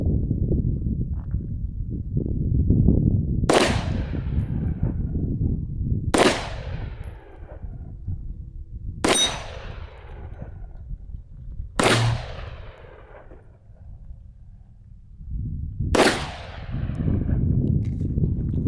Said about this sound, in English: Jackson's 5 rounds for his opinion on the Walther PDP F series